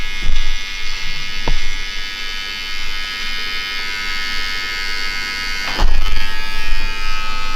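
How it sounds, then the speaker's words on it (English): An electric hair clipper trims a beard during a self-cut, giving a steady close buzz that swells louder at the start and again near the end as the blade presses against the face. "Smooth clipper."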